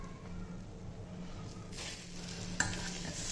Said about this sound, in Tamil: நல்லா மிக்ஸ் பண்ணிக்கிடுவோம்